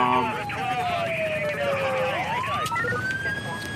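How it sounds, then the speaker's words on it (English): Police car siren in the video game GTA 5 with the LSPDFR mod: a wailing tone sweeps down, then climbs back up, loud and continuous over steady engine and street noise. "I'm gonna get my siren out just in case"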